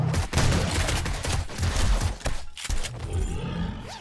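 A defensive turret fires rapid bursts in the survival game 7 Days to Die during a horde night, loud and dense with booming roars mixed into the volley, continuous with brief gaps.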